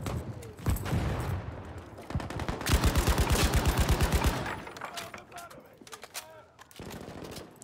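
Machine gun fire in the video game Battlefield V rattles in long, sustained bursts, loud and close, with a dense fast rhythm over other battlefield noise and shouting voices.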